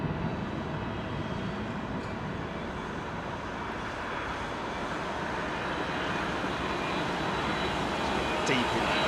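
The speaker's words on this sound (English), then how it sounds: "Watch the suspension collapse down as the aircraft puts all its weight onto it" An American jet airliner arriving from JFK touching down on a Heathrow runway, a steady distant roar of engines and rushing air that holds throughout, with a brief sharper swell near the end.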